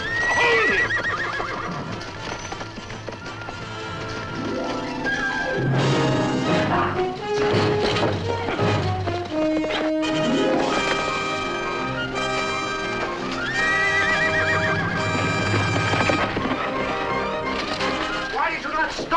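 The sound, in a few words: horse neighing and galloping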